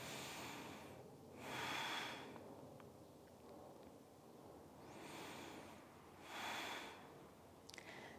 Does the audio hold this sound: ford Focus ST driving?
no